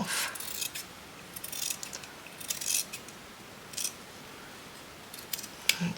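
Scissors snipping through fabric in quick irregular bursts of sharp shearing crunches, close up and separated by short pauses.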